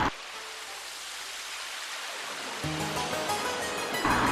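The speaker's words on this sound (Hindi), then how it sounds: "रास्ते में उसे बहते पानी की ध्वनि सुनाई दी और वह उस तरफ चलने लगा।" Water flows in a forest with a constant, even rushing hiss, moderately loud, while music comes in partway through and carries on over it.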